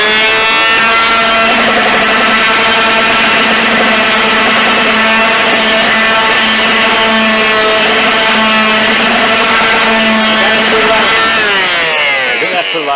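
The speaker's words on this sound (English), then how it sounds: "We're going to sand it with this palm sander right here." A palm sander runs steadily while sanding a surface on a booster build, a loud continuous electric whine with a buzzing harmonic hum that holds for many seconds before winding down at the end.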